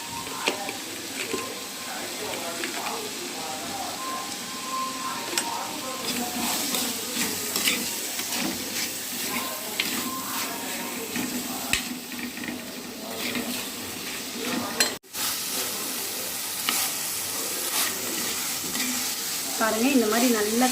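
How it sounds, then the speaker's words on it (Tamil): A steady sizzle of tomatoes sautéing in a pan with a spoon of salt, with stirring and scraping of a spoon and someone talking intermittently. "1 ஸ்பூன் உப்பு போட்டுக்கலாம், சீக்கிரமாக வதங்கிடும்."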